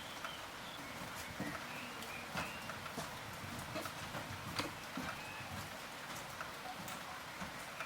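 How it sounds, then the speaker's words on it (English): Steady afternoon rain washes down roof tiles in a continuous, even hiss with scattered closer drips and patters, no voices present. "our road-weary bones are soothed by the sounds of an afternoon rain washing down the roof"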